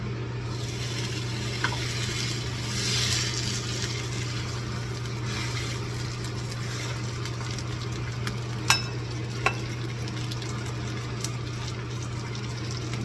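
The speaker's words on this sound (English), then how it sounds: "I'm going to sear that for about 3 minutes aside" Eye of round beef, smoked for about four hours, sears in a pan with a steady, even sizzle, close and moderately quiet, broken by a couple of sharp clicks or pops.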